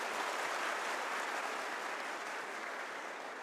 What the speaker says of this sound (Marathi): म्हणून एकदा जोरदार टाळ्या होत्या साहेबासाठी.